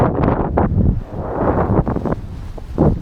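Strong wind buffets the microphone on a sailboat after a jibe in 25 knots of wind, a loud continuous rumbling gust noise with surging swells and no voices.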